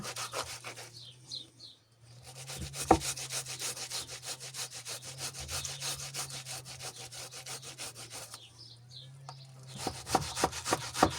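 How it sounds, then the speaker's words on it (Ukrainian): An onion is grated by hand for a shashlik marinade with a fast run of rough rasping strokes, paused twice briefly, each pause broken by a faint tap before the scraping resumes. "І так нашу цю цибульку дотираємо до кінця, щоб м'ясо було соковите і смачне."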